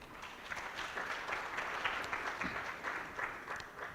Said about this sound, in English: Let's give a huge clap for them,